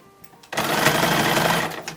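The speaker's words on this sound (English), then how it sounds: "it's sewing the lining and the fashion fabric and the collar and the binding on at all the same time" A sewing machine stitches lining, fashion fabric, collar and binding together on a 1910s-1920s style toddler summer dress. Near-silence breaks into a sudden, steady, close whirring run that lasts about a second and a half.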